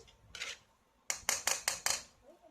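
Maggi noodles being stirred in a pan on an induction cooker, heard as a quiet scrape and then a quick series of four or five close metallic utensil clinks and scrapes.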